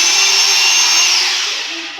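A Bosch GBH 220 hammer drill runs at full speed, a steady loud high-pitched motor whine with a slight dip in pitch toward the end.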